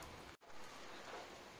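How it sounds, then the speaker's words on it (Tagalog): Light drizzle falling outdoors, a soft, steady hiss of rain that drops out briefly near the start before resuming, faint and with no voices. "Ay, ang ulan. Bakit kaya umuulan?"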